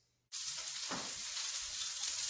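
Cabbage sizzles in hot oil in a pan, a steady loud frying hiss that starts abruptly and holds throughout, with a brief stir or shuffle partway through.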